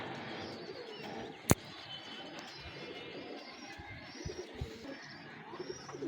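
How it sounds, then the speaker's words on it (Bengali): Kasuri pigeons, part of a running master pair kept in a loft, coo in soft repeated low calls with a sharp click near the start and light rustling later, with no talk over it. "কাসুরি কবুতর রানিং পেয়ার ঘরের মাস্টার পেয়ার কবুতর"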